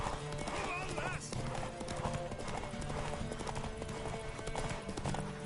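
Rapid clip-clop of galloping hooves, steady and close, with a horse whinnying briefly near the start over a busy layer of game music and ambience, in The Witcher.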